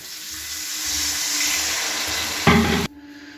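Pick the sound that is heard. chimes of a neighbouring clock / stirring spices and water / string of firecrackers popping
stirring spices and water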